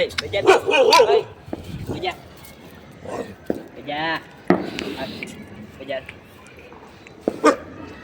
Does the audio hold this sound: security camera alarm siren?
no